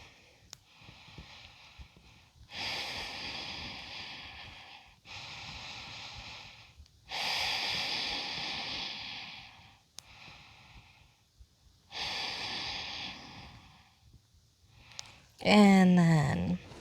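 Slow, deep yoga breaths during knee rolls, a series of long, close, airy inhales and exhales, each lasting a couple of seconds, with a brief voice near the end.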